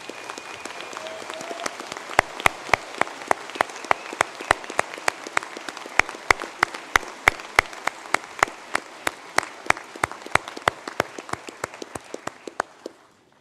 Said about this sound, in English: stand and give a round of applause to those groups of graduates